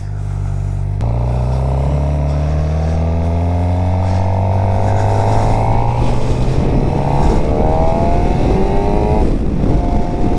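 A 2023 Suzuki GSX-R600 sport bike pulls away in second gear, its inline engine note climbing smoothly in pitch, dipping briefly at a shift, then rising again, loud and close with wind noise building as speed increases.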